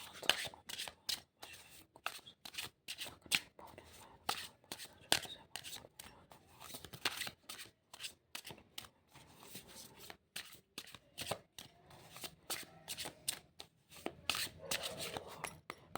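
A tarot card deck is shuffled by hand up close, giving a steady run of quick papery flicks and riffling bursts, fairly quiet, with no talking.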